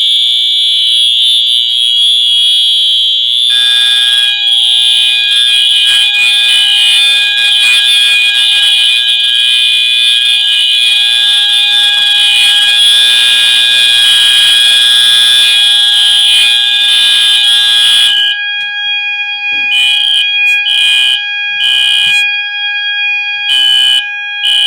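A loud, continuous electronic fire alarm tone, set off by spraying test smoke at an Edwards smoke detector, sounds steadily, then breaks into rapid on-off beeping pulses near the end.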